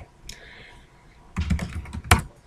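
A few sharp keystrokes on a computer keyboard quit the mutt mail program, with light clicks followed by a firmer cluster of key presses, close and clear, with no talk.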